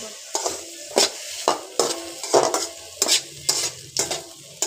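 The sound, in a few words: stirring bitter gourd and potatoes frying in a pan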